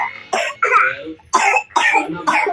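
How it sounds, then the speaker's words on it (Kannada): A series of harsh, breathy bursts close to the mic, about five in a row with short gaps, resembling coughing or throat clearing. "ಕೈ ಕೊಡ್ಕೊಂಡು ಕೆಮ್ಮು ಹಿಂಗೆ"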